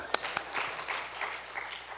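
A church summer Bible school gathering breaks into applause, a couple of sharp close claps up front followed by a softer, brief spatter of many hands from the group.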